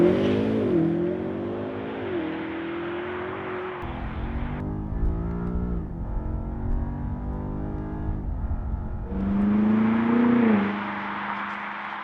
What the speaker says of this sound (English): Let's have a go at launching this M5.